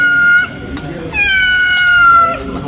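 A cat meows twice, close and clear: a short cry, a brief pause, then a longer drawn-out meow that slowly falls away.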